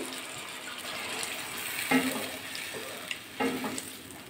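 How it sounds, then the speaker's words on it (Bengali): Water poured into a simmering paneer and potato curry in a pan, a steady hiss and gurgle with a couple of brief louder splashes near the end, close by. "এবার জল দিয়ে দেবো"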